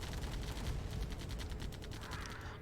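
Faint, rapid gunfire crackles from a real-time strategy battle in Tiberian Dawn Remastered, a steady stream of small shots rattling through quiet background noise for a few seconds with no talk over it.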